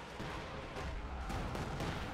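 A Katyusha rocket barrage in Company of Heroes 2, heard as a dense run of booming, crackling blasts that rolls on steadily and loudly for about two seconds with no pauses.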